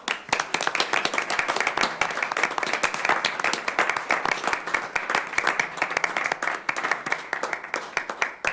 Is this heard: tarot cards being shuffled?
no